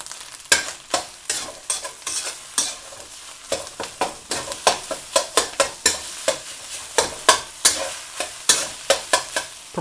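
Egg fried rice with a few shakes of five-spice being folded and stirred in a hot pan: a steady run of sharp, close scraping strokes at an even rhythm over a continuous sizzle, with no talking.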